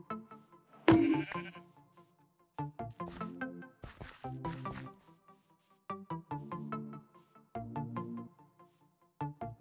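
Repeated sheep bleats from a Minecraft game, a sharp loud cry near the start followed by a steady series of short, evenly spaced electronic-sounding baas with brief pauses between them, no talk.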